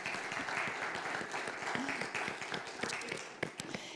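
A church congregation claps briefly for a couple's wedding anniversary during Sunday announcements, the scattered hand claps fairly quiet and uneven with a light murmur of voices underneath.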